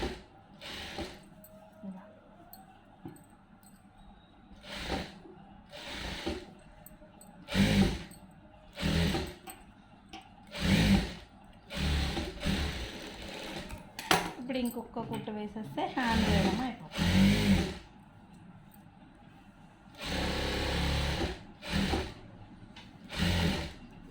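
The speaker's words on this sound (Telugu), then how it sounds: "ఇప్పుడు మళ్ళీ ఇటు సైడ్ నుంచి ఒక కుట్టు వేస్తాం" A sewing machine stitches a lined blouse in repeated bursts of rapid mechanical whirring separated by pauses, close and fairly loud, with someone talking between the runs.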